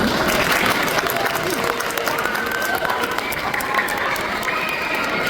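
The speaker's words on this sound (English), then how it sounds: "How about a round of applause for all the GBC team members?" A room full of people at a community evening event claps steadily for the event team members, a dense, continuous wash of applause with crowd noise and some cheering mixed in.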